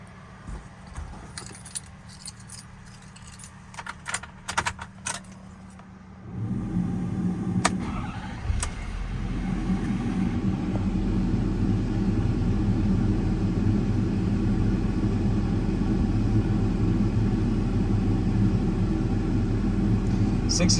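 A 2013 Ford F-550 diesel 4x4 crane truck with 181k miles cold-starts: keys jangle and clicks sound first, then the engine cranks and catches into a loud, steady low diesel rumble that idles on, with a faint voice underneath.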